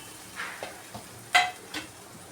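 Paneer masala ingredients fry softly in oil, with a low background sizzle broken by a few brief spoon scrapes and one sharper metallic clink against the pan.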